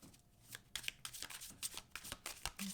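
Tarot cards are shuffled rapidly in a series of crisp riffling bursts, close up and fairly quiet, with no talking.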